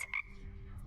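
A frog in the video game Hades II gives a short, faint croak over a quiet ambient background with no voices.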